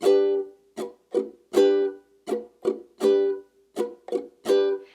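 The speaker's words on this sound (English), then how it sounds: "when I lightly touch the strings, it creates like a chucking, muting, scratching effect" Short, choppy muted reggae guitar strums repeat in a syncopated rhythm, each one clipped off quickly with silence between.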